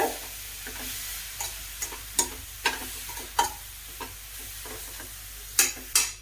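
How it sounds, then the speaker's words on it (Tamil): Carrots sizzle gently in ghee in a pan for carrot halwa, steady soft frying broken by regular sharp taps and scrapes of a spatula stirring, close and fairly quiet. "இதே நெய்யில் வந்து நம்ம கேரட் சேர்த்துக்கலாம்"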